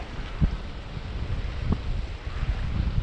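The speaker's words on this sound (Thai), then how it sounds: "แต่ลมแรงจริงทุกคน" Strong wind buffeting a microphone at sea on a fishing boat, a steady broadband roar with a few low thumps, fairly quiet overall.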